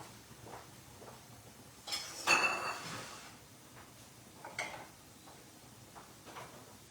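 A covered cooking pot of butter and cream is shifted to another gas burner in a home kitchen, giving a soft metallic clank of lid and pot, then a lighter knock, both faint against quiet room noise.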